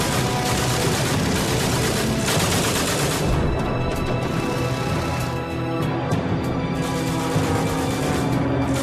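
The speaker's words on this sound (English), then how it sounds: "firing his Lewis gun directly into the cockpit above" A Lewis gun machine gun firing continuously, a dense, loud rattle of rapid shots layered with booming reports and rumbling noise throughout, with no voices.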